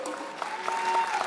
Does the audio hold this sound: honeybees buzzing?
no